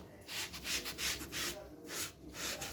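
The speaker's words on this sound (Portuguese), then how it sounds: "pra dar todo um efeito, ó. E vai esfregando." Rubbing strokes on a handmade craft piece, applied over the raised relief to build a granite-style, marbled finish; steady repeated swishing scrapes come close and moderately loud in waves of about half a second, with no talking.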